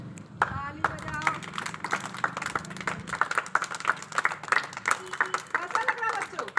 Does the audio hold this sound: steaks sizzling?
no